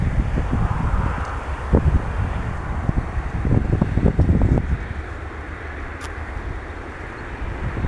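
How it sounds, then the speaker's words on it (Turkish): Strong wind buffets the microphone in loud, rumbling gusts, with low rushing noise rising and falling throughout. "Acayip bir rüzgar çıktı."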